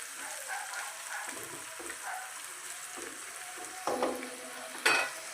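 Finely chopped onions sizzle steadily in hot oil while a spoon stirs and scrapes the pan in a few louder strokes near the end, close and with no one speaking.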